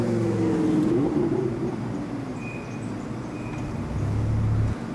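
A red Audi R8 sports car in a video game drives up and pulls to a stop, its engine a steady low rumble that swells again near the end, with no talk over it.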